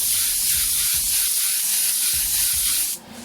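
A steady airbrush hiss sprays paint continuously for about three seconds, close and even, then cuts off abruptly near the end.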